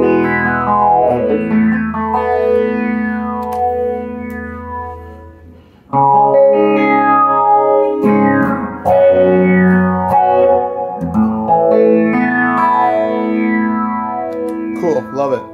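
An electric guitar runs through a Strymon Zelzah phaser pedal, its sustained chords sweeping and swirling with a shifting phased tone, loud and close, with several fresh strums over about fifteen seconds.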